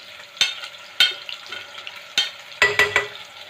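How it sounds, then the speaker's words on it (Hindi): Ginger and whole coriander frying together in a pan, with several sharp sizzling bursts and stirring scrapes spaced irregularly over a quiet background, close and fairly loud, no voices. "इनको हम थोड़ा सा फ्राई करेंगे, सब चीज़ों को इकट्ठे ही।"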